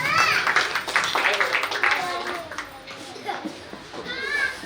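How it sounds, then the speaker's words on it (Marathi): Guests clap at a birthday party, scattered hand claps under lively chatter and children's voices close by. "सर्वांनी टाळ्या वाजवा ताईसाठी."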